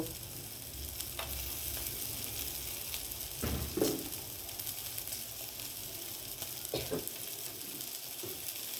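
Chopped garlic frying in a pan for chilli chicken sausage, a steady close crackling sizzle with a few brief louder spits and stirring scrapes throughout.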